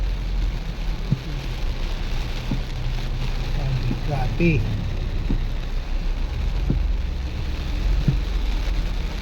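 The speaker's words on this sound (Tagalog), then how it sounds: "Grabe, ang lakas ng ulan guys." Dense, loud rain pours onto a mini van during a night drive through flooding streets in Coronadal, a constant hiss and patter, with a man exclaiming once over it.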